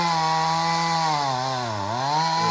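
A chainsaw hollows out the inside of a wooden log for an alligator river table, its engine a loud, close, sustained whine that drops in pitch briefly as the chain bogs into the wood, then recovers.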